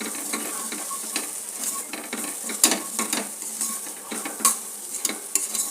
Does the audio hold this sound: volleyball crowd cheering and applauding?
no